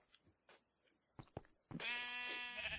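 A Minecraft sheep in an FTB modpack world lets out one long, loud harmonic bleat in the second half, preceded by a few faint, scattered game clicks and thuds.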